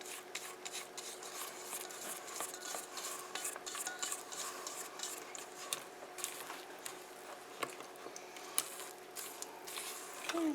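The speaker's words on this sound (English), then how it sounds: "I'll scrape down the sides" A spatula scrapes around the sides of a bowl of apple spice cake batter, giving faint, close, irregular rubbing and scraping strokes with soft clicks against the bowl.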